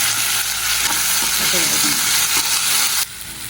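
Onions sautéing with ginger garlic paste in a pan for prawn gravy, a loud, dense, close sizzle with faint stirring underneath that suddenly drops in level near the end.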